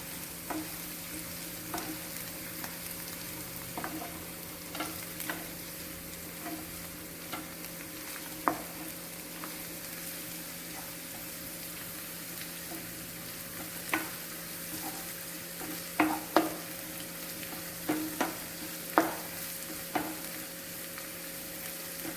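Ginger and garlic stir-fried in a pan for a cauliflower roast: a soft, even sizzle with scattered light clicks and scrapes of a spoon mixing, fairly quiet and alone.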